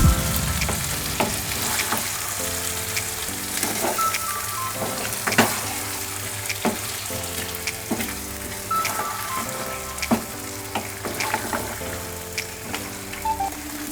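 Mutton sizzles and fries in masala paste in a pan while being stirred, a steady crackling hiss punctuated by scraping and clinking of the spoon, with no one speaking.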